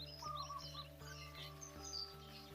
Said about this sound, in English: So many cute birds here.